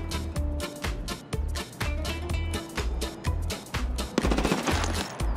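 Rapid automatic gunfire from a firefight in Escape From Tarkov, loud sustained bursts with short gaps between them and sharp crackling reports, no voices over the shooting.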